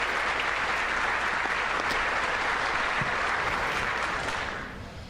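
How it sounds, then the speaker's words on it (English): A large chamber audience at the 2019 State of the Union address claps in a dense, sustained wash of applause that holds steady, then fades toward the end. "The bug-eyed zombies is clapping"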